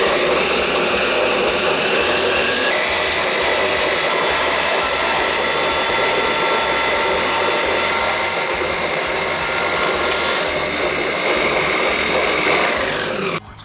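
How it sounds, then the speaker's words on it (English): A small Edison benchtop bandsaw, recently repaired, runs with a loud steady whirring drone that holds for about thirteen seconds before cutting off. "It's some kind of Edison bandsaw little table thing, and it didn't work, and I got it to work."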